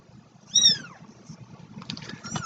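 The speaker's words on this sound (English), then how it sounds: "Come on, kittens." Two-week-old kittens give a single clear, high-pitched meow close by, followed by softer scattered mewing and rustling over a low background rumble.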